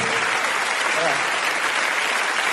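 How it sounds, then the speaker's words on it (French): Dense, steady applause from a comedy show audience fills the hall at full volume, a continuous wash of many hands clapping together without letup. "sous vos applaudissements, on va les raccompagner"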